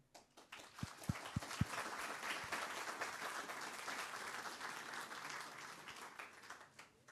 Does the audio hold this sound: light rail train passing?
no